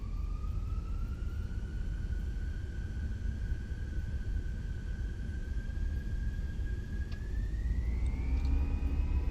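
Fenix A320 jet engines spooling on a takeoff roll in the flight simulator MSFS, a steady roar with a rising whine that climbs in pitch near the end, continuous and moderately loud.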